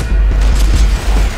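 Pistol gunfire in Max Payne 3, fired one-handed while Max carries a long-arm weapon, comes as dense, loud low booms packed into a short burst.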